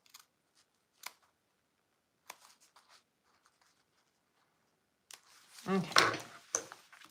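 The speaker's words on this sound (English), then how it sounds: "I'm just going to use my scissors." Scissors cut through bag fabric at a sewing table, quiet scattered snips at first, then a denser, louder run of rustling cuts close by.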